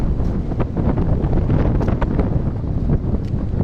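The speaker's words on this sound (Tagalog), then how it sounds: "napakalakas ng hangin." Strong wind roars and buffets the microphone in steady gusts, a loud broadband rush with no voices.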